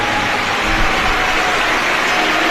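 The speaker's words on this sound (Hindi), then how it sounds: "एक बार जोरदार ताली बजा सकता है।" A large crowd at an outdoor Shiv Mahapuran religious discourse in Gumla, Jharkhand applauds loudly, a thick continuous roar of clapping with no clear pauses.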